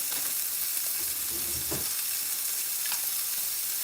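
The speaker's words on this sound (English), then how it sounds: "I'm going to grab butter and put it over in that skillet and turn it on low to start melting." Butter melting in a skillet on low heat, a steady soft sizzle and hiss throughout, with a couple of faint clinks midway.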